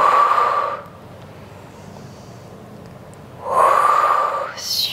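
Two long, forceful exhalations during a Pilates exercise, close and breathy, separated by a quiet pause of a few seconds.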